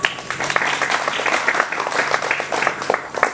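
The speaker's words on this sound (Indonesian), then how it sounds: "mari kita beri aplaus kepada mereka" An audience applauding at a talk on creative economy, giving dense, steady clapping that stays loud for the whole stretch with no voices over it.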